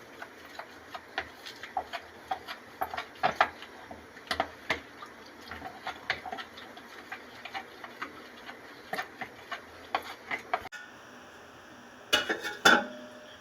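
A spoon stirs custard powder mixture in a pot, giving repeated light metallic clicks and taps at an irregular, quick rhythm, with a louder clatter near the end.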